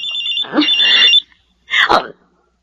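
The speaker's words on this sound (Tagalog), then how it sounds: "Si Alma, tumatawag sa cellphone ko." An incoming call rings on a cellphone in two loud, close bursts of electronic ringing, the second shorter, separated by a brief silence.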